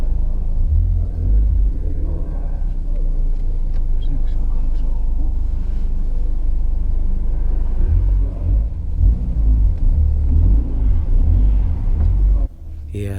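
VW Golf Mk4 1.8T GTI launching down the Santa Pod drag strip in second gear with the clutch slipping, a loud, deep engine roar and rumble sustained from inside the car, with voices talking over it and a sharp drop at the end.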